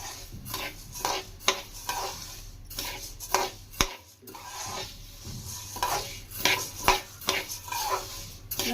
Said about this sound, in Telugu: నేను 5 మినిట్స్ దాకా కడాయిలోనే ఈ విధంగానే ఫ్రై చేసుకుంటూ ఉంటాను